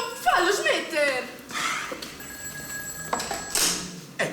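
A telephone rings during a youth amateur theatre stage play, its bell trilling in repeated bursts, with actors' voices and audience chuckles heard over and between the rings.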